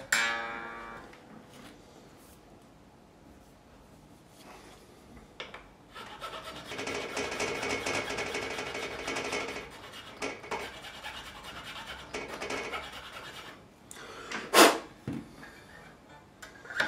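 A file rasps in short, quiet strokes across the nut slot of a 1992 Fender Japan Stratocaster guitar during a setup, worked slightly side to side, with a sharper scrape near the end; no talking.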